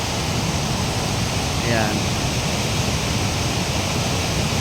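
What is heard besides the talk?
strong rushing water at Bustos Dam, Bulacan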